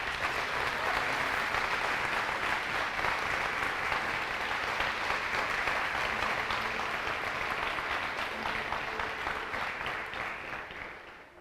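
Sustained applause from a church congregation of the Ministério Deus Forte in Uberaba, a dense even roar of many hands that holds steady and fades slightly at the end, with no talking over it.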